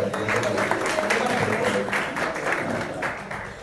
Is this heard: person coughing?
no